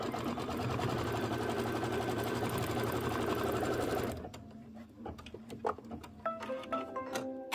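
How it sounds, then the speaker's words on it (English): Embroidery-style quilting machine sewing up the left side of a pieced pumpkin autumn quilt block, a loud steady whirring stitch that stops after about four seconds, leaving light clicks and handling noises. "It is sewing up the left side."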